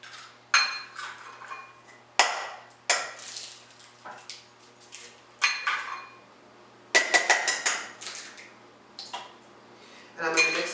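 Three eggs are handled in a bowl for a ham and basil quiche, with a series of close, bright clinks and knocks of shell against a dish at irregular intervals.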